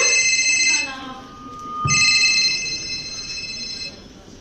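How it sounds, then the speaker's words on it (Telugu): A phone rings indoors with a loud, steady electronic ringtone that pauses briefly and then resumes, with no voices over it. "మమ్మీ ఫోన్ వస్తుంది"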